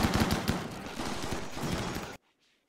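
Automated defense turrets in Rimworld open fire in a rapid, dense burst of overlapping gunshots, loud and close, rattling for about two seconds before cutting off abruptly to silence.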